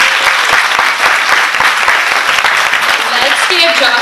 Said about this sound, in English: Please give a round of applause to Joshua Guzman.